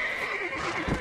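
A horse in the video game Red Dead Redemption gives a single short, close whinny lasting about a second.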